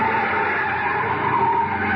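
Car skidding to a stop in an old radio drama, a loud, sustained tire screech held for about two seconds, close and without speech.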